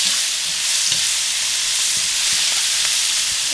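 Onions fry and begin to caramelize in a pan, giving a steady close sizzle with scattered scrapes and clicks of stirring, no voices.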